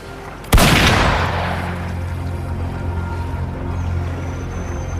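A single loud gunshot in Wuthering Waves cracks out, its boom rolling away into a long, fading echo over a low background rumble.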